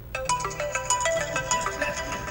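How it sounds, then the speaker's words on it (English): A phone ringtone plays a bright, bubbly melodic tune for an incoming call from a bill collector, close and steady. "That's a bill collector phone call."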